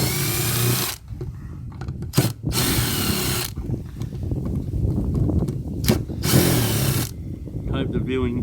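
Power drill removing screws from scrap plugs and switches, several short whirring bursts of the drill separated by pauses, with a person talking between and around them.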